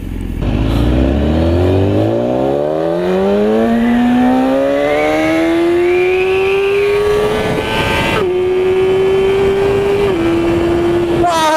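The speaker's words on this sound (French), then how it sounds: "La bécane elle est munie d'un pot à cras, ce qui fait que le bruit est juste génial." A BMW S1000RR sport bike fitted with a loud aftermarket racing exhaust revs hard and climbs steadily through the rpm range, then drops back twice with brief gear-change dips, loud and close throughout.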